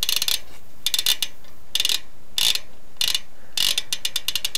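An Odyssey V3 rear hub on a BMX bike ticks in sharp, close bursts of rapid freewheel clicks, stopping and restarting several times with nothing else heard.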